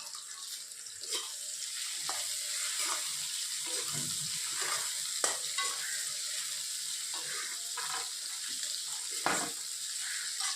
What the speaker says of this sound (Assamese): এড কৰি এইখিনি মই ভালদৰে ভাজি ল'ম